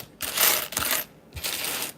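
Two bright bursts of metallic clinking as coins are dropped and jostled together, close and fairly loud, separated by a short pause.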